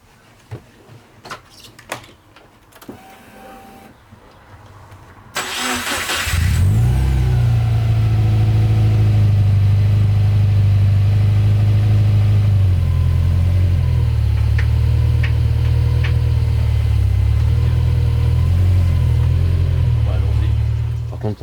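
A Subaru Impreza engine, just rebuilt, fires up after a few quiet clicks and handling noises, then settles into a loud, steady idle with a slight shift in pitch partway through, holding strong to the end.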